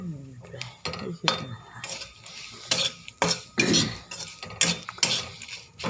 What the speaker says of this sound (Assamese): তেল দিয়া নাই, এবাৰ শুকানকৈ ভাজি দিওঁ।